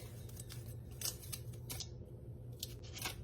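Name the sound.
tape peeling off a hot sublimated holographic camp mug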